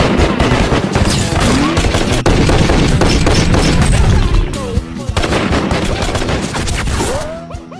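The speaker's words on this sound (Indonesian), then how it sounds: "Arthur mengajari Stephen untuk menembak di halaman belakang rumahnya" Dense, rapid gunfire from backyard shooting practice in a film scene: loud cracks and bursts follow one another almost without pause, then thin out near the end.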